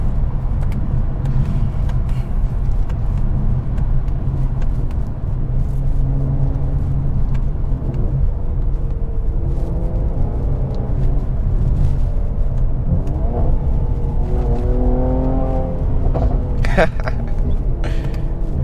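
A Mercedes C43 AMG engine pulls under boost, a loud, steady, close rumble from inside the car that rises in pitch over the stretch, with a few short pops near the end.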